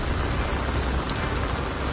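Heavy monsoon rain pours down in Karjat, Raigad, a dense, steady roar of falling water that stays loud and unbroken throughout, with no voices.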